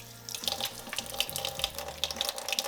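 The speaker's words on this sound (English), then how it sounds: "So we're just gonna wash my hands." Tap water running into a sink while hands are washed with dish soap, a close, steady splashing stream with small irregular gurgles and no talking.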